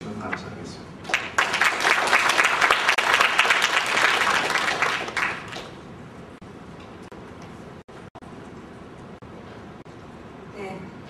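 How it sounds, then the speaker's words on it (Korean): A conference hall audience in Jeju claps in loud, dense, sustained applause to welcome the national brand committee chair, then it fades out abruptly partway through and leaves quieter room noise with a few scattered sounds. "큰 박수로 환영해 주시면 감사하겠습니다"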